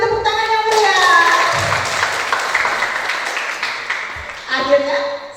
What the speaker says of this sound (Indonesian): Kita juga sambut dengan tepuk tangan yang meriah.